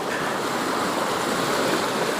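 The flooded Manjara river surges beneath a tall national highway bridge, its water touching the slab, producing a loud, steady, dense roar of rushing water with no pauses or voices.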